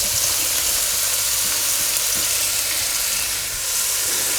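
Onions drop into a hot pan used for lamb shanks and sizzle loudly and evenly, a dense hiss that dips briefly near the end before resuming, with no voices.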